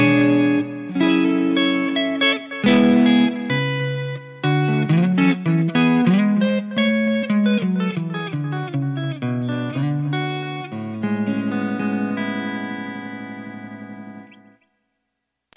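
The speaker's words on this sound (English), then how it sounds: "I'm going to roll the tone knob off and show you how cool this sounds with like jazz tones." A Kiesel JH6 electric guitar plays a clean jazz tone with the tone knob rolled off, mellow plucked notes and chords in a flowing phrase, alone with a soft effects wash, ending in a ringing chord and silence.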